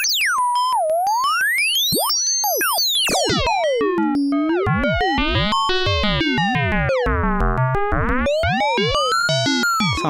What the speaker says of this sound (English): Let's go into chaos oscillator here for that